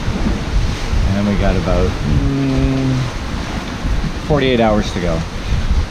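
Ocean waves splash against a sailboat on a beam reach in open water during a passage from Isla Mujeres, Mexico to Guatemala, with steady wind rushing past and someone talking over the noise.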